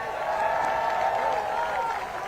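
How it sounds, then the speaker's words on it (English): Steady applause from a crowd at an outdoor voting rights march rally in Atlanta, a dense, continuous patter of clapping lasting the whole stretch with no clear breaks. "Let's get another round of applause"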